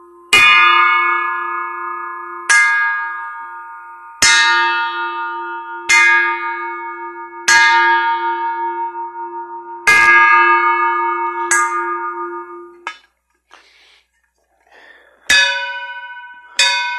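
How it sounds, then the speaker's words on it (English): A metal spoon struck repeatedly rings out like a bell, about eight sharp strikes each followed by a long sustained ring, loud and close, with a steady low hum beneath most of them and no talking. "what does the spoon sound like?"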